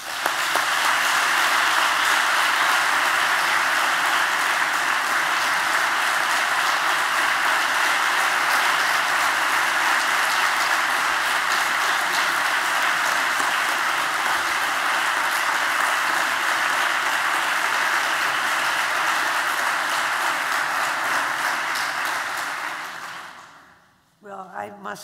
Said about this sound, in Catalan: Sisplau, un aplaudiment.